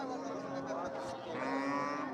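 A dairy cow at a busy cattle market gives a long, low moo up close against a murmur of crowd noise.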